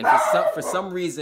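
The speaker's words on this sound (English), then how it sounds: "that's my dog. So if you hear my dog" Someone talks while a dog barks a few times close by, the yaps overlapping his speech.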